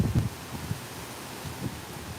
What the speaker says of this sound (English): you actually get all the heavy-duty winds on the north side, which blow in from the ocean